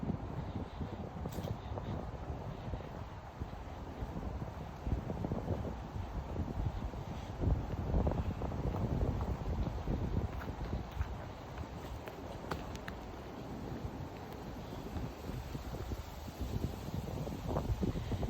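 Wind blows through trees in an open area of Fort Lee State Park, New Jersey, as a continuous, fairly faint rushing roar with low buffeting on the microphone and occasional light rustles, no voices.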